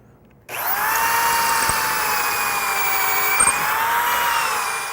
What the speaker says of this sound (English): now that I've got my pockets all drilled out